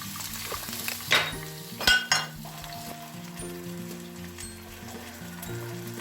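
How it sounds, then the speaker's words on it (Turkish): Sliced peppers hit hot oil in a pan and sizzle steadily, with a few sharp utensil clinks and clatters early on and soft music playing underneath. "Biraz ısındıktan sonra biberlerimizi atıyoruz."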